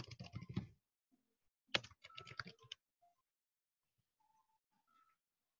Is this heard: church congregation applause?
no